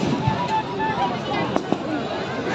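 Firecrackers bursting inside a burning Ravan effigy at a Ravan Dahan festival, a few sharp cracks over a roaring crowd hubbub and steady background noise, with people talking nearby.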